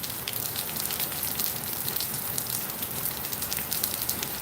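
Rain falls in a steady, even patter with fine crackly drops, a continuous moderate hiss with no voices.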